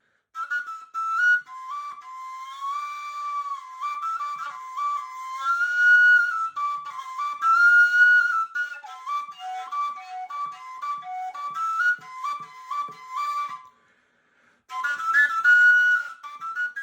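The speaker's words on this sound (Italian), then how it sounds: "il suono ipnotico del cosiddetto flauto armonico" Harmonic flute (flauto armonico), a tube played by modulating overtones through breath, gives a clear, whistle-like melody of sliding high harmonics with soft pulses, played alone and up close, briefly pausing before resuming.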